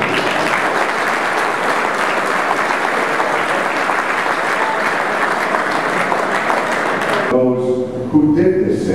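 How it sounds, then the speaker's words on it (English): Audience at a golf championship final round ceremony applauds the MC, a dense sustained wash of clapping lasting several seconds before cutting off into a voice. "let's give a nice round of applause to Mr."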